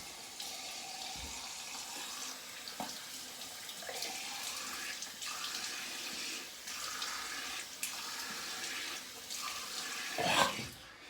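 Water runs steadily from a tap into a sink during rinsing, a constant close splashing flow with small shifts and a brief louder gush near the end, no voices.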